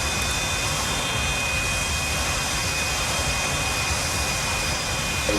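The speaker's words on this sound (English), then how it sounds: "Doing a synchro launch from the F4 and the F-18 already." An F-4 Phantom and an F-18 jet in a synchronized aircraft carrier launch in the FlightGear flight simulator near Ascension Island, a loud, steady, unbroken jet engine roar with a thin high whine riding on top.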